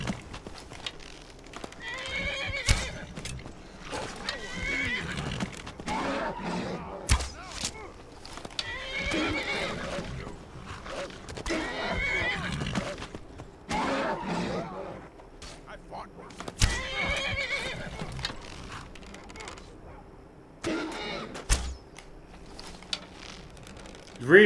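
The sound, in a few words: horse neighing and hooves in video game Skyrim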